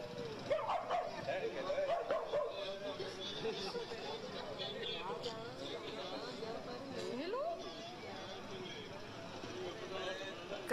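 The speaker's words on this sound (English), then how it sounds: "Even though people try to help him, the dog is barking." In a played recording of a street scene, a dog barks and yips repeatedly beside a drunk man lying on the ground, with busy crowd chatter and voices around it. The whole scene sounds faint and distant.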